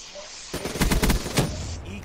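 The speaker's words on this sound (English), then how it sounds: "One shot coming out of that room right there." Rapid burst of video game gunfire, several close, sharp shots in quick succession from a sentry gun firing from a room, with a faint voice around it.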